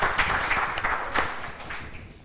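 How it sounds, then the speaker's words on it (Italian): Applause from studio guests, cycling club supporters at an Italian TV cycling show, fills the room as a steady, moderately loud patter of clapping with some crowd noise, briefly swelling near the middle before easing slightly. "E poi gli applausi che sentite, il frastuono che sentite"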